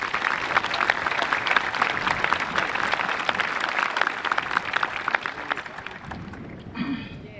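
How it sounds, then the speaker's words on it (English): Graduation crowd at a high school ceremony applauding staff, a loud, steady ovation lasting several seconds before tapering off, then a voice begins speaking near the end. "please give them another round of applause."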